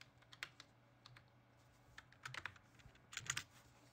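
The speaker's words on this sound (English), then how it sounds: "so ignore my typing." Computer keyboard typing during a Minecraft stream, quiet and close, with irregular clusters of clicky keystrokes and short pauses between bursts, no voice.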